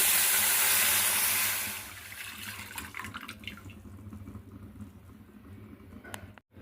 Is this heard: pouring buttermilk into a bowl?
yes